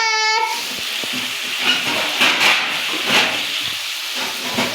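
Prawns sizzle and crackle in hot oil in a pan with a continuous hissing spatter, close and fairly loud, no talking.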